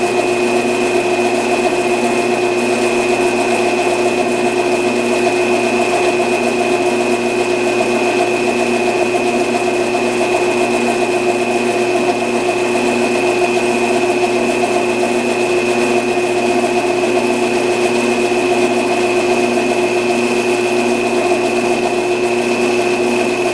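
A lathe running to resurface a disc: a steady, unbroken mechanical whine and hum with constant tonal drone, close and loud throughout, no voices.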